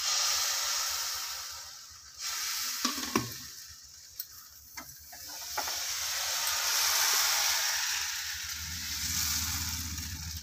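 Appam batter meets a hot pan beside freshly made coconut milk, giving a steady, close, bright sizzle with a few sharp clinks and knocks of the pan. The hiss fades briefly midway, then swells again.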